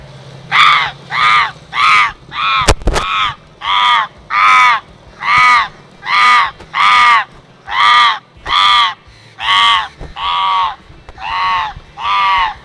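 A man imitates crow caws to call in crows, giving about fifteen loud, harsh caws in a steady, evenly spaced rhythm, each clearly separated by brief pauses.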